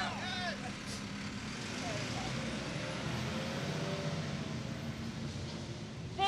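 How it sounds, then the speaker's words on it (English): A heavy truck rumbles steadily close by at an outdoor tenants' rally in Portland, Oregon, its broad engine noise filling the whole stretch while a person speaks over it. "Can the people hear me over this truck?"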